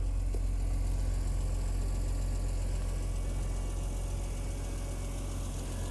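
A car engine idles steadily and close by at a long-distance used-car inspection, a constant low rumble with slight vibration and no speech.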